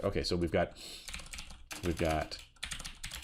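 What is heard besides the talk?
typing on a computer keyboard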